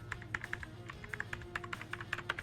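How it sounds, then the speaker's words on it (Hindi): Keystrokes on an HP GK520 full RGB mechanical gaming keyboard, quick irregular clicky taps in close succession, near and fairly quiet, with no voices. "ये है हमारा HP का GK 520 full RGB mechanical gaming keyboard"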